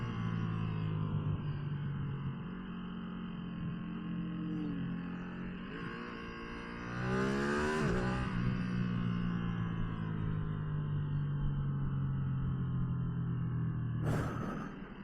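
A Ducati Streetfighter V2 motorcycle engine drones steadily on a ride, its pitch swinging upward as the throttle opens midway before settling back, with a sharp burst near the end and no talking.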